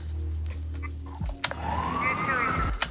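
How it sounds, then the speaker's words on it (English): A police car siren sweeps up and wails near the end, preceded by low rumbling and a few sharp crackles and clicks like radio bursts, fairly loud and close. "One is the police sirens and the radio communication."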